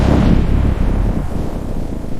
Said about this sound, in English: It is stormy.